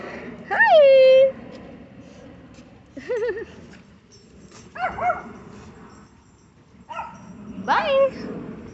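A puppy gives several high yips and whimpering whines in separate short bursts, close and fairly loud, with a person's voice talking around them.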